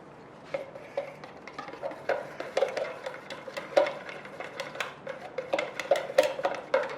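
A spoon stirs a candle mixture in a container, a rapid series of light clinks and scrapes against the sides, close and fairly crisp, continuing throughout.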